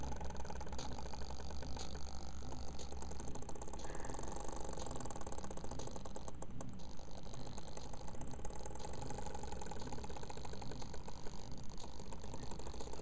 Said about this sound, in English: So they're stepping the coils in this stepper motor. And the servo is cranking along in little increments.